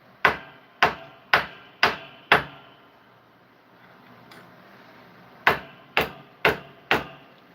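Metal hammer blows ring out sharply as a silver ring is hammered flat, five evenly spaced strikes, a quiet gap, then five more, close and distinct.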